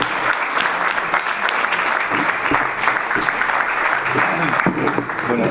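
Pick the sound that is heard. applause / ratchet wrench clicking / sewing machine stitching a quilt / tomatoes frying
applause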